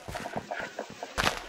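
Chickens cluck in the video game Minecraft, several quick soft clucks in an uneven run, fairly faint and close, with no speech over them.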